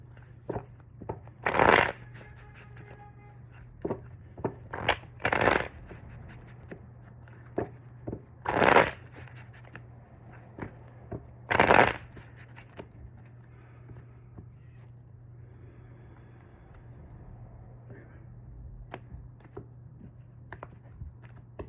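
Four loud riffle shuffles of a deck of cards, each a sharp burst, spaced a few seconds apart, with lighter card handling and tapping in between over a steady low hum.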